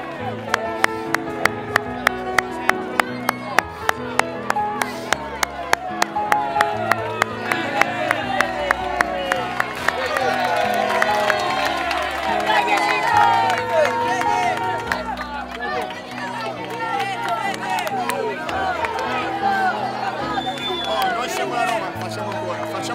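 Football fans cheer and applaud their players, rhythmic group clapping in regular beats at first, then a broad roar of crowd cheering and chatter, with voices shouting nearby.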